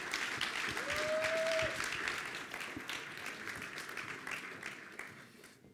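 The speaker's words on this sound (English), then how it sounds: "Give applause to Eric." Audience applause at an unveiling event for the Microlino electric car, a steady wash of many hands clapping that swells early and holds loud for several seconds before easing slightly, with a brief whistle-like tone near the start.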